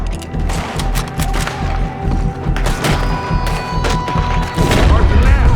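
Gunfire in the video game Red Dead Redemption, with repeated shots and thuds over steady low rumbling. Music and shouting voices run underneath, and a heavier burst comes near the end.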